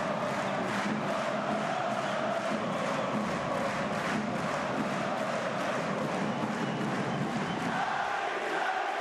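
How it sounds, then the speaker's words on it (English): Basketball crowd singing and chanting in the stands during a FIBA World Cup Asian qualifier between Lebanon and Qatar, a dense, steady roar of many voices throughout with no clear break. "They're singing in the stands for Karim Zainoun in Lebanon."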